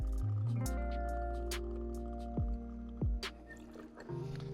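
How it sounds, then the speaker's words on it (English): Wheat whiskey is poured over a big ice cube, giving soft drips and liquid trickles with a couple of brief clinks, quiet and close over a steady background of music-like tones. "So first thing I'm gonna do is add the whiskey. I'm gonna add 2 ounces"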